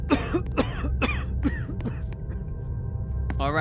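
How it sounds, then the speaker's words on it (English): Harsh, repeated coughs come from behind a closed door in a Roblox apartment horror game, four or five loud bursts in a row, then fading throat clearing. "This dude's just gonna cough in there."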